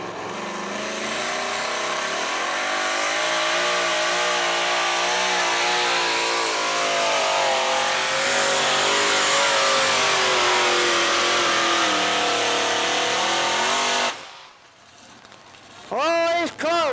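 1946 Willys truck with a 572 cubic inch, 1,900 horsepower engine at a 1997 truck pull in Chapel Hill, Tennessee: a long, loud, continuous full-throttle roar that cuts off abruptly, with an announcer's voice heard over it.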